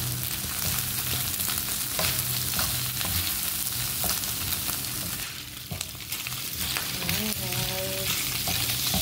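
Vegetable leftovers, green beans and carrots, being reheated in a pan give off a loud, continuous sizzle close up, broken by repeated scraping stirs, with no talking.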